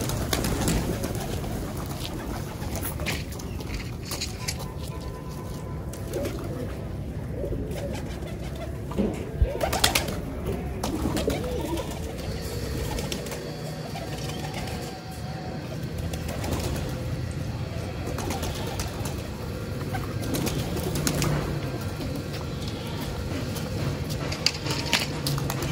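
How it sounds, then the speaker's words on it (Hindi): Pigeons coo softly and steadily on a rooftop over a constant low outdoor hum, with an occasional brief flutter of wings. "दोस्तों छत के ऊपर आ गए जी कबूतर"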